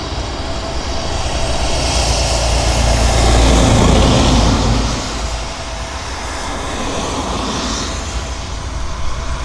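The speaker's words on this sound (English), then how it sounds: "this aircraft is a derivative of the Lockheed Electra." A US Navy Lockheed P-3C Orion, an Electra-derived four-engine turboprop patrol plane, taxis at an airfield, its engines giving a steady loud roar and whine that swells for a few seconds midway, then eases back.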